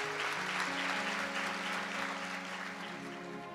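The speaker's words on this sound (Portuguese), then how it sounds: "A Ele uma salva de palmas." A church congregation applauds after a sermon, a steady wash of many hands clapping that stays loud and even throughout, with a faint sustained tone beneath.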